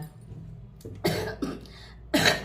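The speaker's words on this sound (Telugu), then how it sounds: "దగ్గితే ఎలా ఉందా అలా ఉందనమాట" A person with a sore, scratchy throat coughs three times in rough, close bursts, with short pauses in between, against a quiet indoor background.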